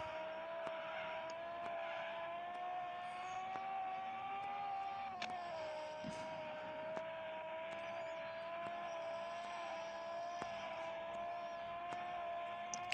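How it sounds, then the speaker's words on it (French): A Lamborghini engine in a car simulator game drones steadily at a sustained, fairly constant pitch with a slight dip partway through, heard continuously and alone with no talk. "Celle-là, c'est une Lamborghini."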